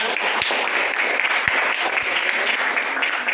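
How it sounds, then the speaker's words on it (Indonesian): A classroom of children claps together at their teacher's request, a steady burst of applause lasting a few seconds with a couple of louder individual claps standing out. "Oke, tepuk tangan semuanya."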